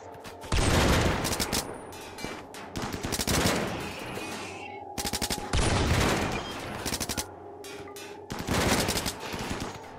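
Turrets in the RimWorld video game fire in repeated rapid bursts of machine-gun rattle, loud and close, separated by short pauses and recurring several times.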